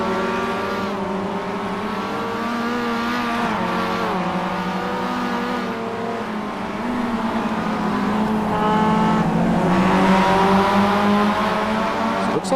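Mazda MX-5 race cars at Sandown in the iRacing game drone loudly and close, their engine pitch rising and dipping through several gear shifts, with no one talking.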